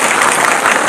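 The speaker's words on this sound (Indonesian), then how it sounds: "tepuk tangan buat semua dulu" A church congregation at a sermon bursts into loud, close applause, a dense wash of clapping hands lasting about a second with no talking.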